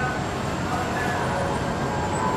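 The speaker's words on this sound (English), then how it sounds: "Train approaching. Please remain behind yellow line." Video game Rollingline train approaching a station, a steady rumbling drone of rail noise that holds at an even, fairly loud level throughout, with no clear wheel rhythm.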